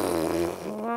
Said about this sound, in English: Farting into a saxophone.